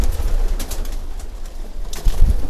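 Breeding pigeons coo in a loft, a low, throaty murmur that rolls on steadily and close by, swelling louder near the end, with no voices over it.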